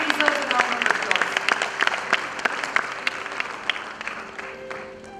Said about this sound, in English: I think they really deserve a round of applause.